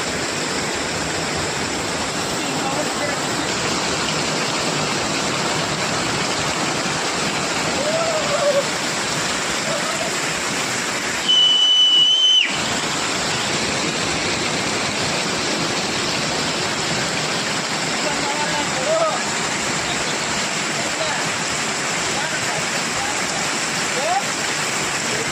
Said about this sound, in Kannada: ವಾಟರ್ ಸೌಂಡ್ ಹೇಗಿದೆ ನೋಡಿ